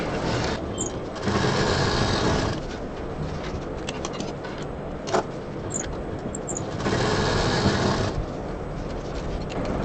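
A sewing machine stitches fabric along a zip for a multi-box storage organizer, running in two loud, steady whirring bursts separated by quieter mechanical hum and a few clicks.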